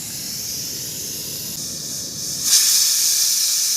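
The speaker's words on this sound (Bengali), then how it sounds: "এরকম কটা সিটি পড়বে তারপর কলাইটা সিদ্ধ হবে?" A pressure cooker of dried peas vents steam in a steady, close hiss that suddenly surges louder partway through and holds there, with no voices.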